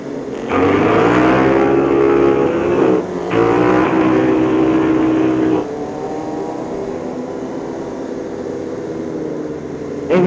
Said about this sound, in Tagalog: Yung motor ko maingay.